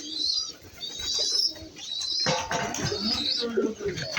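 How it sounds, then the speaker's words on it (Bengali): Several pigeons coo and call in a busy bird-filled setting, soft murmuring calls overlapping with brighter chirps, a louder burst of activity joining midway. "এই কবুতরগুলো"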